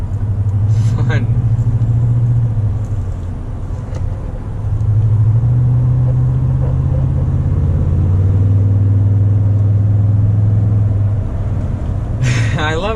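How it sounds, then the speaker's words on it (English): A 2019 Toyota Tundra TRD Pro on an off-road drive, its engine giving a deep, steady rumble with long sustained tones that barely change pitch, loud and close throughout. "I love how there's not really a pitch change to the engine."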